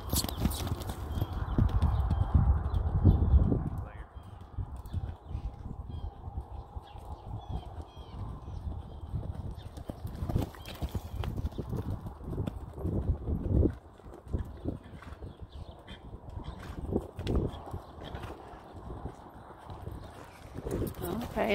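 Hooves of a ridden horse clip-clop in a steady loping rhythm on the ground, fairly close, with heavy rumble early on and a crow cawing faintly in the background.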